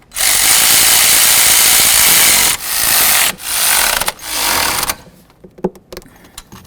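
Bolts on an exhaust shield of a 2007-2014 Cadillac Escalade are run down with a power tool in one long loud burst followed by several shorter whirring pulses, then faint clicks and handling noises.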